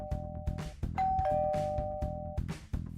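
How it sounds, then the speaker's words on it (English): A doorbell rings with two sustained chime tones, clear and close, over a low rhythmic background. "the doorbell rang"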